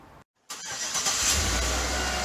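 A car engine cranks and catches after a brief silence, then settles into a steady, rising engine hum as the car pulls away, fairly loud and close with no talk.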